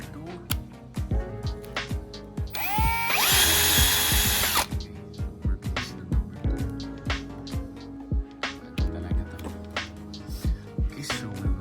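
An Ingco brushless lithium-ion impact drill whirs in one loud burst of about a second and a half, set among scattered clicks, knocks and handling noises, with some speech nearby.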